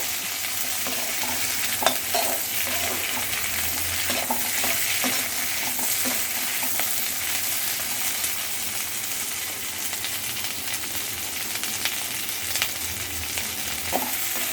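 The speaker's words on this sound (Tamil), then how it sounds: "வெங்காயம்லாம் வதங்கும்ல ரொம்ப க கருகாமல் வதக்கணும்" Onions sauté in oil for hotel-style chilli chicken, giving a steady, dense sizzle with occasional stirring scrapes and clinks throughout, with no talking.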